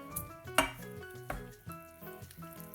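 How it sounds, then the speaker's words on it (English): A spoon stirs tofu burger chunks and barley into a Lancashire hotpot, with soft clinks and scrapes against the pot and a faint sizzle, quiet and close, amid background music. "Give that a good stir."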